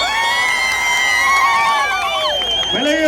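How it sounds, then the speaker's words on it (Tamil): Crowd of voters at an election rally in Bhavani cheering and whooping joyfully, loud and continuous, with shouted voices rising above the noise. "இங்கே வந்து மகிழ்ச்சி ஆரவாரம்."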